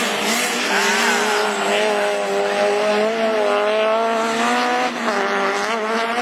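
Rallycross cars, including an Audi A3 and a Peugeot 306, race wheel to wheel in a Division 4 event at Lessay. Their high-revving engines whine loudly and continuously, pitch rising and falling through gear changes.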